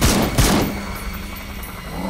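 Gunfire in the video game Metal Gear Solid V: The Phantom Pain: two heavy, close shots at the start, then a fading reverberant tail with a faint steady hum beneath.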